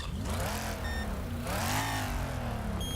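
A car engine warming up in Wreckfest revs up and down in repeated rising and falling surges, a loud close engine drone with brief high tones over it and no talking.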